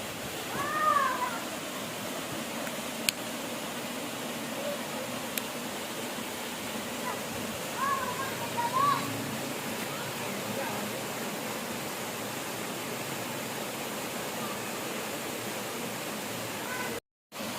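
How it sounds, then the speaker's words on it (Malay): Sungai Durian waterfall in Silungkang roars as a constant, even rush of falling water, with a few brief cat-like squeaks near the start and around the middle. "dari sana mengingkap air terjun Sungai Durian ya"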